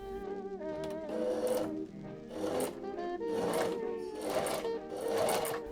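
A sewing machine joins the bodice of an Edwardian-style dress to its corset skirt, running in close, steady bursts of rapid mechanical stitching with brief pauses between runs and no talk.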